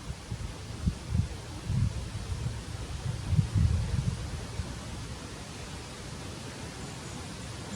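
Wind blowing outdoors in an Australian backyard on a cold day, a steady faint rushing noise with gentle low gusts swelling in the first half, then settling to a soft even hiss.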